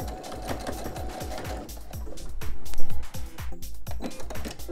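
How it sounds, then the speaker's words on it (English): Rapid, evenly pulsed stitching from a sewing machine backstitching along the fabric edge of an oven mitt, close and fairly loud, with the pace shifting slightly near the end. "I'm going to sew and backstitch over it"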